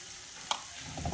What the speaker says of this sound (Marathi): आणि छान असं फ्राय करून घ्यायचं आहे